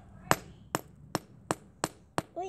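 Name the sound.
hammering a smartphone to break it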